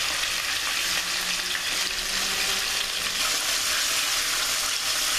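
Buttermilk-marinated chicken pieces fry in hot oil with a steady, dense sizzle and crackle that holds evenly throughout, loud and close with no voices.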